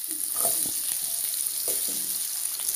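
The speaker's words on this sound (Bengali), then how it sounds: "এখন মিষ্টি আলুগুলো ভাজা নেব হালকা করে।" Sweet potato pieces fry lightly in a pan, giving a brief, even sizzle with a few soft clicks of stirring.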